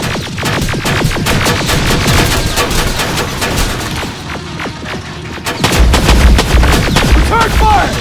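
Dense, loud video-game gunfire in Terminator Extinction, with rapid overlapping shots and bursts running continuously, rising to heavier booming blasts toward the end.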